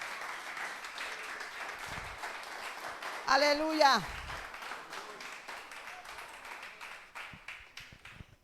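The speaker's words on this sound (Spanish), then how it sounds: "Bríndele fuerte aplauso a él porque él es bueno." Church congregation applauding throughout a sermon, a steady patter of clapping running under a preacher's voice, with a short shouted exclamation partway through.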